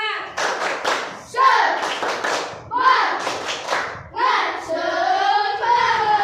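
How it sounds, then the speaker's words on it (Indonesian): A classroom of schoolchildren performs a rhythmic spirit clap, sharp claps and thumps in repeated bursts mixed with loud chanting voices, each phrase separated by brief pauses. "Sekali lagi tepuk semangat"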